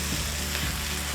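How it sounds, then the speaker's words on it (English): Tomato paste stirred into a hot pan while braised beef short rib is being started, a brief dense sizzle with soft scraping, close and steady. "add in our roughly 2 tablespoons of tomato paste and stir that in"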